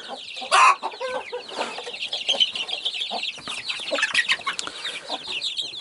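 Middle-sized chicks and hens cluck and squawk as they are caught with a long-handled net, one sharp loud squawk early followed by busy, continuous agitated clucking nearby.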